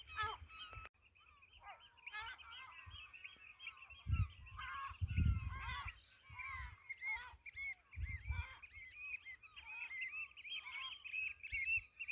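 A flock of geese honks continuously at a distance near Fort Cigogne, overlapping calls and squawks mixed with other birds, with a few low thumps.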